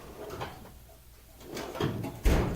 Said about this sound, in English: open the right drawer.